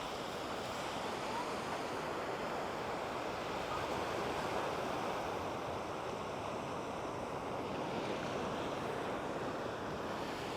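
Ocean surf washing onto a sandy beach in Koh Lanta national park, a steady, continuous wash of waves with some wind noise on the microphone and no talk.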